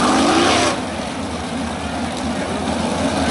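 World of Outlaws sprint cars racing at Attica Raceway Park, a loud roaring engine pass that fades into a steady distant drone of cars circling the dirt track.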